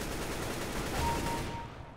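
Counter-Strike: Global Offensive gunfire on the Inferno map, a dense two-second burst of rapid shots that stays loud and close, then tails off slightly at the end.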